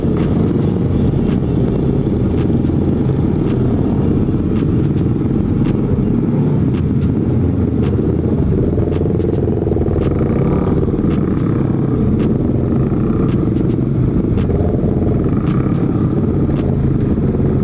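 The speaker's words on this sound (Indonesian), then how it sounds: "Nah kan macet tuh" Dense traffic on the edge of a toll road in Makassar, with cars and motorcycles crawling in a jam. It makes a continuous loud engine rumble with passing motorbike clatter, recorded up close from a moving motorcycle, with no talking.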